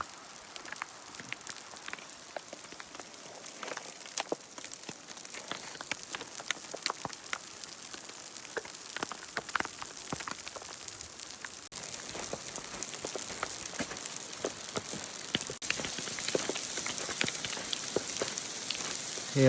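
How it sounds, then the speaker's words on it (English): Hail falls steadily on a mountain trail, a dense crackling patter of small icy strikes close around, sustained and fairly loud with no talking. "look at all that hail"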